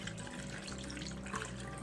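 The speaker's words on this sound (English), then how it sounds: "we're just gonna take this marinade and I'm just gonna pour it right over the chicken" Teriyaki marinade pours over raw chicken in a steady close liquid splash, a continuous trickling stream with no talk.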